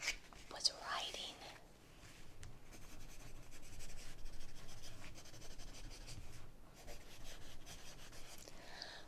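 Quiet scratching of a pen or pencil writing on paper, soft and close, with faint whispering at the start over a low continuous rustle.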